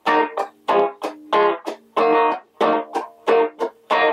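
Electric guitar through a homemade amp housed in a 12-inch drum with its treble boost switched on, a bit louder and brighter: a steady run of short strummed chords in quick rhythm, close and clear, with no voices.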